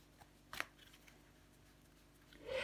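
Tarot cards being handled and laid down on a reading table: a brief soft flick and slide near the start, then a quiet rustle as another card is placed at the end, faint and close.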